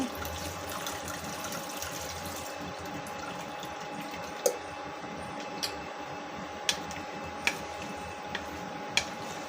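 Cold water poured over drained white pasta in a home kitchen, a steady soft rushing stream that runs the whole time, with a few faint sharp clicks scattered through it.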